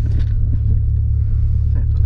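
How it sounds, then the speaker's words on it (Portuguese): Fiat Marea engine idling slightly high while still cold after a first-try start: a steady low rumbling drone, close and continuous, with faint background noise over it. "A lenta um pouco mais alta, porque tá frio, né?"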